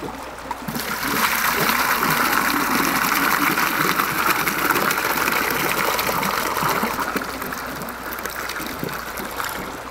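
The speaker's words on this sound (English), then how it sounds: "I'll hook this up and drain out about 10 gallons of water out of the setup" Water from an aquaponic system drains through a hose in a steady, continuous gushing rush, about ten gallons being let out. The flow stays loud and even throughout with no talking.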